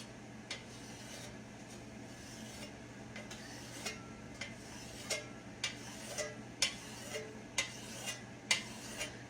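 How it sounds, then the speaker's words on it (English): A spatula cuts rolled dumpling dough into thin strips for ham dumplings, giving a series of soft, close scraping taps against the board that come at an uneven pace and grow slightly louder toward the end, with no voices. "I cut mine with a spatula"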